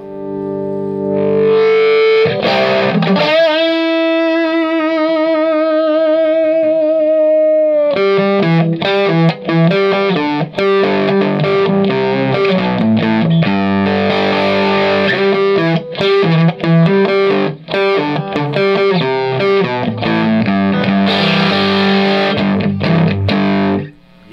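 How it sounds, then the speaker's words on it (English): Electric guitar through a Blue Flame amp on the clean channel turned fully up, loud and breaking into grit, with a long sustained bent note followed by busy chords and riffs. "what does the clean sound like if you dime it, right?"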